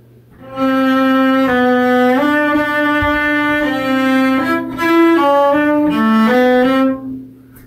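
A cello plays a sustained, singing passage from Bréval's Sonata in C, bars 101 to 105, with bowed notes that shift pitch smoothly across a legato phrase, close and resonant, ending with a held note and quick fade.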